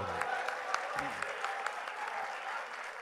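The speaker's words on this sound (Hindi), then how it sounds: "आप लोग तालियां बजाएं एक बार" Audience applause at an Urdu poetry mushaira in Doha, Qatar: a dense, steady wash of many hands clapping from a large crowd, continuous for about three seconds with a faint murmur of voices underneath.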